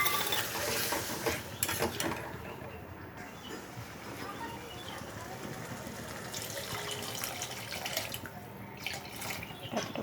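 Water pours into a cooking pot of jackfruit curry as a faint, continuous splashing wash with some rattling and stirring noises.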